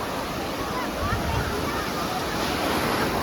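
Continuous broadband surf wash of waves at Appikonda beach in Anakapalli district near Vizag, a steady roar filling the clip with some wind noise, no distinct voices standing out.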